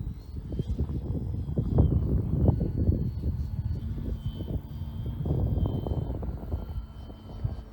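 A PA Katana 52 RC model airplane drones overhead, its engine note rising and fading as it passes at a moderate distance, heard alone with steady outdoor noise.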